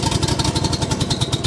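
A Westermann Cleanmeleon CM2 cleaning machine's small engine running loud and close, a rapid even chugging pulse with mechanical clatter, steady over a short stretch.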